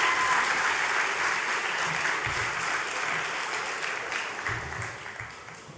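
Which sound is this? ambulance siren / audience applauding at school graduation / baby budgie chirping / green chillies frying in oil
audience applauding at school graduation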